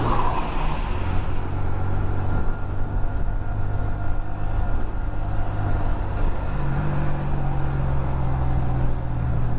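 A motorcycle overtaking a line of dump trucks on the southern route across Madura, Bangkalan to Sampang, with steady loud engine drone and road rumble throughout, heavy vehicles close by and no talk.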